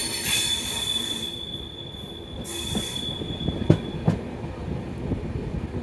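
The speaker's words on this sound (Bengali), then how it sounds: "ট্রেন যখন বড় একটা কার্ভ নেয় তখন চাকার সাউন্ড এরকমই হয়" Train wheels squeal on a big curve on the Uttarbanga Express from New Jalpaiguri, a high thin screech over rolling rail rumble, with a few sharp clanks of the wheels mid-way.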